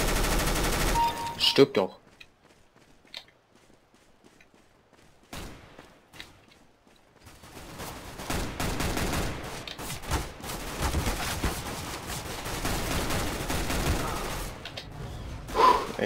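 Machine gun fire in the video game CS:GO, rapid bursts at the start and again through the second half after a quiet stretch, with someone speaking briefly over the shooting.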